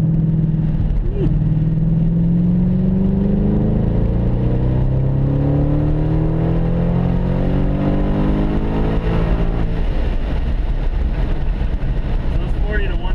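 A 2013 RTR Mustang with a 390 engine pulls hard in third gear from 40 to 110, its loud engine note climbing steadily in pitch over about ten seconds, with people talking over it.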